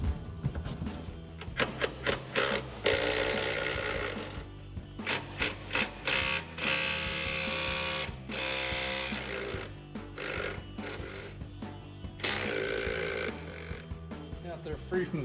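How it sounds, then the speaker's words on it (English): A ratchet with an 18mm socket on an extension works loose the strut top nuts of a Chevrolet Silverado 1500, clicking in quick bursts between pauses, loud and close, with someone talking over parts of it. "these are going to be 18mm sockets that you need to fit on those"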